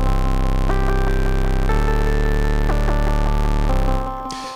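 A SOMA SimplexFM synthesizer produces a clucky patch: short pitched blips repeat in a loose pattern over a steady, harmonically rich drone, and the sound fades out at the end. No one talks.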